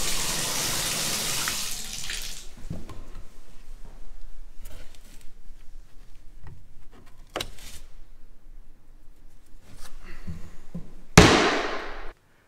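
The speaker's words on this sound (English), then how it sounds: "whenever I turn on the faucet valve here, it actually leaks pretty heavily behind the base here" Water gushing from a faucet valve that leaks heavily behind its base, loud and hissing at first, then fading to quieter drips and splashes, with a sharp burst of spray near the end.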